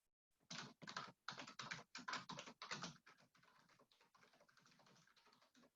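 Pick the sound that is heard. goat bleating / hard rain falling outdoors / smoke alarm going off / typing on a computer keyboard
typing on a computer keyboard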